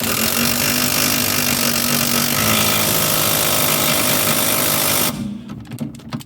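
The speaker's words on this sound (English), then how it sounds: "I'm going to use the impact driver for this, but you can do it with a hand ratchet and so on. Is to tighten this bolt up" An impact driver tightens a bolt on a Volvo's rear shock absorber with a loud, continuous rattling hammer for about five seconds, then cuts off abruptly, leaving faint clicks.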